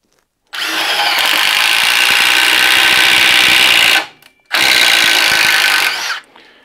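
A Milwaukee M18 Fuel impact driver spins a self-feeding auger bit through wood with a loud, steady high-pitched whirring drone, halting briefly for about half a second before a second sustained burst, then cutting off.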